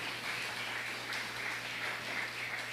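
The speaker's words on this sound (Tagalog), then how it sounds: "Palakpakan natin ang mahal na Panginoon. Malakas na palakpak, minamahal." A congregation at a JMCIM preaching service applauds steadily, a dense, even wash of clapping that carries on without a pause and sits somewhat distant in the room.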